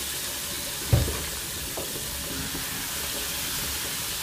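A spice mix drops into hot oil with a soft thump, then a steady crackling sizzle continues at moderate volume in a home kitchen.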